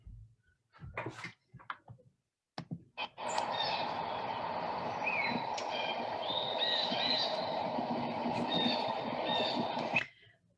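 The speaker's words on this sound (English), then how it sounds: "lots of blue jays, and I can hear the white-throated sparrow" Outdoor birdsong from blue jays and a white-throated sparrow: after a few scattered knocks and thumps, a steady background of chirps and whistled calls runs for several seconds, moderately distant, then cuts off abruptly.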